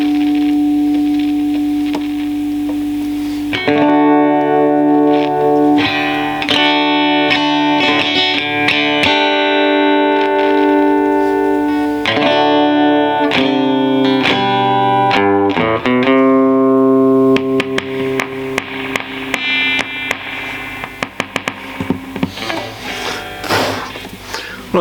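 A Lindo electro-acoustic guitar played through an amplifier with bass turned up full, ringing chords and strummed notes over a steady hum and hiss, starting quietly then loud and sustained for the rest.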